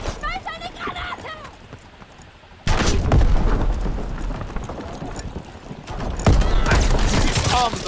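Combat in Call of Duty: WWII, with dense gunfire and rattling bursts, then a loud grenade boom partway through and another heavy blast near the end, while voices shout over the battle.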